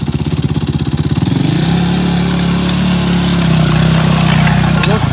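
A Yamaha YFZ 450 quad with its tires removed is run for a burnout, the single-cylinder engine pulsing at idle before climbing into a loud, sustained high rev that holds close and steady for several seconds.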